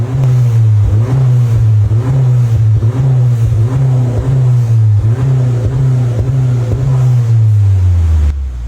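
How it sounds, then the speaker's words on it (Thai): A Honda car with dual-side genuine titanium exhaust tips holds a loud, steady, deep exhaust drone with rhythmic pulsing revs, close up, before the engine note drops away at the end. "คันนี้เลือกเป็นท่อออกซ้ายขวาปลายไทเทเนียมแท้ ฟังเสียงครับผม"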